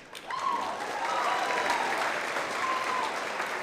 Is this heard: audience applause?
yes